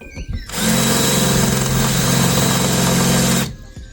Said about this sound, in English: Yes, I'm drilling into my T4 with a nice paint job.